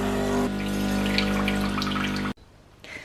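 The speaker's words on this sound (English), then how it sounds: "it's running water through both" A Nespresso Creatista Pro machine pumps water through during descaling, a steady mechanical hum with watery flow that stops abruptly, leaving near silence and a faint trailing sound.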